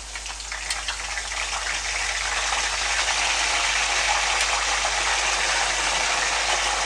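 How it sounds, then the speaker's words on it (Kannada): Raw banana slices for chips drop into hot oil and fry with a steady, loud, close crackling sizzle that swells slightly after the first second and holds evenly, no voices. "ಅದನ್ನು ಎಣ್ಣೆ ಒಳಗಡೆ ಹಾಕ್ಕೊಳ್ತಾ ಇದ್ದೀನಿ"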